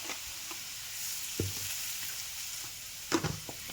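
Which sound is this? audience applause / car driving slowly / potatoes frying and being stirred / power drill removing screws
potatoes frying and being stirred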